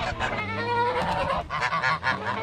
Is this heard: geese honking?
yes